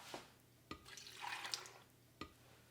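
A short splash of 1 cup of water pouring into a blender, with a few soft clicks before and after, fairly quiet and close.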